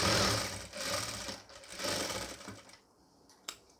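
A sewing machine stitches a pleated nightie, reversing to back-stitch one section. About three quick close bursts of whirring come in a row, then the machine falls quiet except for one small click.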